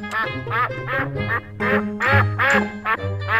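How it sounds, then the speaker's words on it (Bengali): Cartoon ducks caged together quack in a quick series of loud, nasal calls, several in succession close by with short gaps between them. "আরে এখানে তো অনেকগুলো তাজা তাজা হাঁস আছে"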